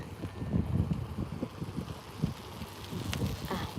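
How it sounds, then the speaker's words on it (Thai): Strong wind blows outdoors in Finland, roaring and buffeting against the microphone in gusts throughout, with no clear talk over it. "มันลม ลมมันแรงมากบอกเลย"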